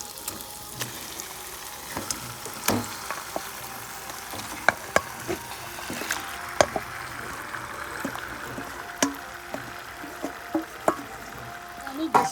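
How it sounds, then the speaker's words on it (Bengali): Marinated chicken goes into hot spiced oil and fries with a steady sizzle, punctuated by scattered pops and clinks of a utensil against the pan. "এবার আমি ম্যারিনেট করা মাংসটা ঢেলে দেব।"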